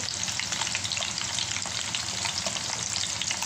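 Onion frying with garlic in a pan gives a steady, dense sizzle with light stirring, close and moderately loud, with no voices.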